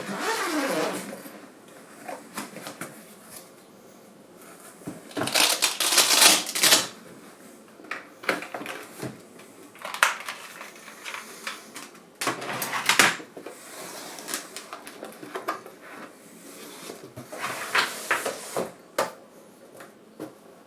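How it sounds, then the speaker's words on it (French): A Goupil Golf portable computer is pulled out of its carrying bag, giving scattered rustling, zipper-like rasps and soft bumps of fabric and plastic at close range, some louder bursts between quieter handling. "sortons ce Goupil de sa sacoche"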